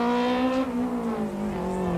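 Toyota Conquest rally car in a 1995 rally, engine revving loud and close with a tonal whine that rises, then drops as it pulls away and shifts.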